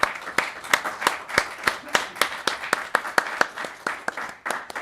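A small group claps for several seconds at a town council meeting, the individual hand claps distinct and fairly regular, with no voices over them.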